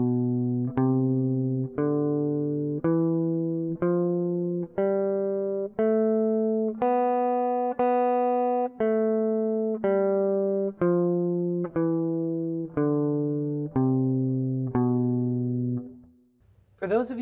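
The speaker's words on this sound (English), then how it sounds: "you might hear a weird little wobbly sound on some of the notes that I play" Guitar playing the B Locrian scale in open position, a slow ascending then descending run of single sustained notes, some wavering and slightly wobbly, loud and close, ending in a short scrape.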